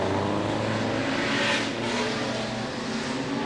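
A Maserati 4CLT racing car engine, one of the San Remo Maseratis, blares loudly and steadily at a circuit and swells briefly as the car passes close by.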